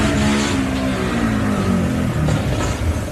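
An off-road vehicle with a faulty exhaust revs hard and continuously at a 4x4 adventure park race, its rough, sputtering exhaust note droning loudly throughout.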